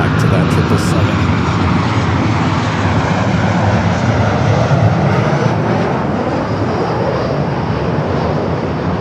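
A jet airliner arriving at Los Angeles LAX on a flight from San Francisco gives a loud, steady broadband engine roar that holds for the whole stretch, with a voice talking faintly underneath.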